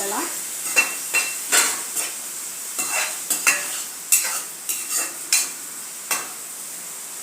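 Onions, tomatoes and green chillies being turned in a pan for potato tomato curry, with a faint sizzle under a rhythmic series of spatula scrapes and scoops, close by, with a brief word spoken.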